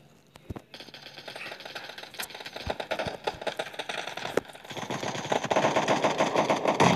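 Rapid automatic gunfire in PUBG Mobile team deathmatch, bursts of sharp shots building in density and loudness over several seconds, with occasional single cracks and no talking.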